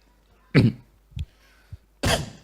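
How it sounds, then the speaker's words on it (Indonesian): A person coughs twice, loud and close, with the two bursts about a second and a half apart. A couple of soft thumps fall in between. "itu batuk."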